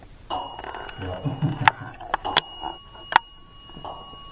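A hand-slapped bell gives several bright metallic rings that each decay briefly, heard close by between low voices and a few soft knocks.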